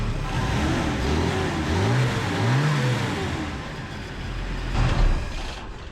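An old U-Haul truck engine with a new exhaust idles with a steady low rumble, briefly revving up and down twice before settling back to a smooth idle.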